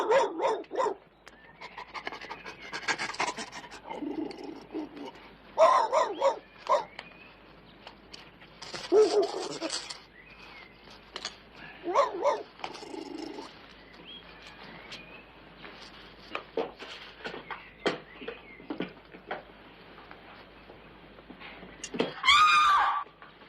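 A dog barks and pants in scattered bursts, close by, with short whimpers and gaps of quiet between them.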